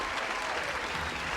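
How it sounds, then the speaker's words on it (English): A crowd claps steadily, a dense wash of applause at moderate volume for a brief moment. "Applause in order."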